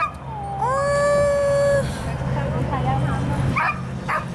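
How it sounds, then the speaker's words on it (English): A small dog outdoors on a cold day gives a drawn-out howling yip followed by softer whimpering barks, fairly close, over steady background noise with people around. "There's a cute little dog over there."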